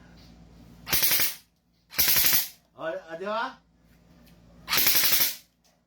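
Close, loud bursts of rapid full-auto fire from an M4A1 Commando airsoft gun: two bursts, a short spoken remark, then a third burst, each a tight rattle of shots lasting about half a second.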